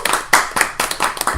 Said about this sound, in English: Should we give a round of applause for Retro?